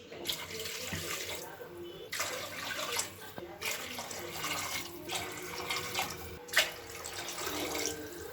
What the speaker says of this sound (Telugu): ఇప్పుడు మనం వాటర్ పోసుకోవాలి